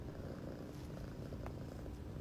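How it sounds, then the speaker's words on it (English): A cat purrs steadily and softly throughout, a continuous low rumble with no talking over it. "Purrs in mouth."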